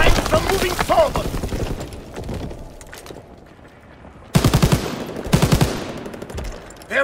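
Bursts of machine-gun fire from a World War II battle in Call of Duty: WWII rattle loudly near a tank, with shouted talk in the gaps between the close, rapid volleys.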